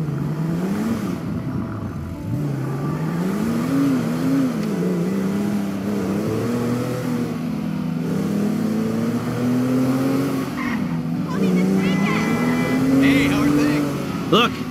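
Car engine in the video game GTA V driving around the block, a steady loud hum rising and falling in pitch as it accelerates, with voices talking over it throughout.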